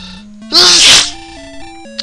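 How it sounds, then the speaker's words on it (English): Over simple 8-bit Dragon Warrior game music, a person lets out a loud, explosive sneeze up close, about half a second long, after which the chiptune melody carries on. "Now we get another sneezing fit."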